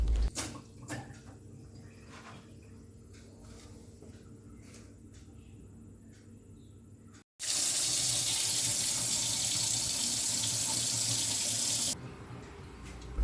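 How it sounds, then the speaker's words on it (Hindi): Water gushes loudly and steadily from a kitchen faucet fitted with a filtering tap extension, running for several seconds into the sink before cutting off, after quieter handling sounds. "इससे पानी फ़िल्टर होके भी आएगा और बाहर की तरफ उड़ेगा भी नहीं, फोर्स भी बहुत ही अच्छा रहेगा"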